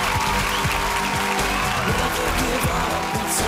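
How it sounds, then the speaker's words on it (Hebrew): A studio audience applauds during a singing-competition battle round, with sustained clapping and some crowd noise filling the whole stretch, loud and steady. "מחיאות כפיים"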